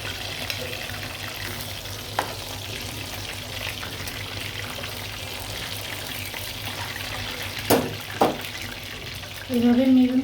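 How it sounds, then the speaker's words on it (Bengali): Chicken kebab frying in a pan, a steady low sizzle with brief utensil knocks and scrapes partway through and a voice starting at the end. "এইভাবে মেরুন কালার করে ভাজতে হবে।"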